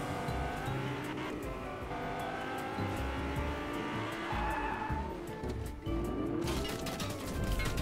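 Car driven across the map in Fortnite, engine droning steadily with tire squeals and skidding sweeps, close and continuous, with game music in the background.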